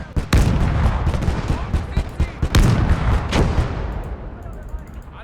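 Artillery fire in a World War II tactical video game: several loud, heavy booms and sharp gunfire bursts over a continuous rumble of battle, with a big blast near the start and another midway, fading slightly toward the end.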